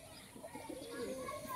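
Pigeons coo softly in the distance, low and muffled, while people talk quietly in the background.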